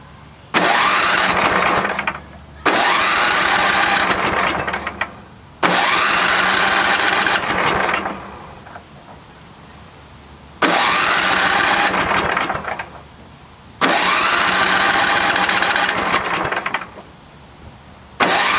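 A rusty vintage two-stroke snowblower engine firing up again and again, each start a loud close buzzing run lasting a couple of seconds before cutting out to quiet, with several bursts in a row.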